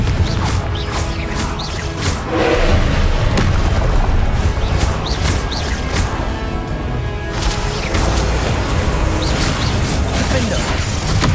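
Loud, continuous spell blasts and booming impacts from the Confringo fire spell in Hogwarts Legacy, crashing explosions layered with shouted spell names over dense game effects.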